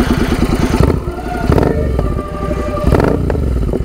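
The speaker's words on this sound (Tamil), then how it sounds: "ஓகே, லைட்டாக ரேவ் பண்ணி காமிக்கிறேன்" Royal Enfield Interceptor 650 twin fitted with an SS Motocorp aftermarket exhaust, revved lightly in a few blips over a steady loud idle, with rough, throaty clatter close to the mic.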